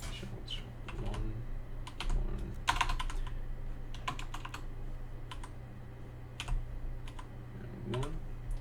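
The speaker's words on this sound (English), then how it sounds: "type those into the calculator" Quiet, irregular clicks of calculator buttons being pressed as numbers are entered, close by and faint, with a few soft taps in short bursts.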